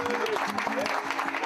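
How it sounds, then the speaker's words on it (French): Applause from a studio audience welcoming a guest, a short burst of clapping with voices and cheering mixed in over it. "Un tonnerre d'applaudissements pour mon nouvel ami"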